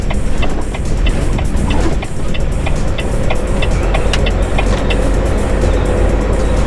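A semi truck pulls into a parking spot at a busy truck stop, its loud diesel engine rumbling steadily close by along with faint clicking, and no talking.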